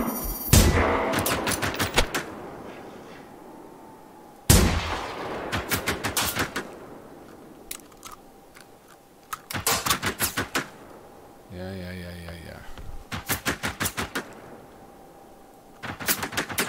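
Gunfire in the video game Generation Zero, with loud sharp single shots and rapid bursts of automatic fire separated by brief pauses, close and punchy, plus a short mechanical reload-like rattle in the middle.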